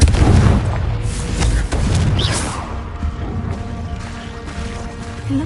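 Confringo fire spell goes off in a Hogwarts video game cave, a loud, close booming blast at the start followed by a rumbling roar that slowly fades.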